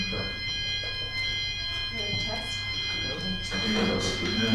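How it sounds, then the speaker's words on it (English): A building fire alarm goes off during a sales and marketing event, a steady multi-tone electronic ringing that holds throughout beneath people talking in the room. "That's the fire alarm actually."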